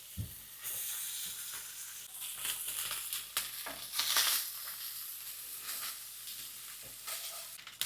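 Cooked rice is stir-fried in a pan with chilli flakes and oregano, giving a loud, steady sizzle broken by scraping stirs and crackling bursts, with no talking.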